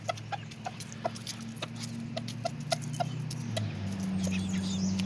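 Bantam chickens pecking and crunching dry cicada shells, quick crisp pops in an irregular patter close up over a low steady hum.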